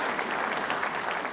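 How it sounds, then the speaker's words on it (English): Audience applause fills a snooker hall at the 2015 Champion of Champions semi-final between Kyren Wilson and Mark Allen, a steady dense clapping that holds evenly loud throughout. "Now it's time to applaud."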